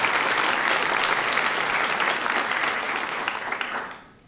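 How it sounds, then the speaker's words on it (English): An audience at a university student teacher recognition ceremony applauds loudly, a dense, sustained round of clapping that fades out at the end. "Let's give her a round of applause as well."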